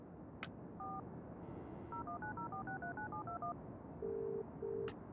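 A telephone keypad in the video game Broken Sword 3 dials one tone, then pauses, then plays a quick run of paired beeps, followed by two longer flat tones. It is clear, quiet and has no talking.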